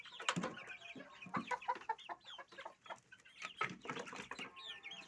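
Chickens clucking continuously at close range, a busy overlapping chatter of short calls from several birds with no talking.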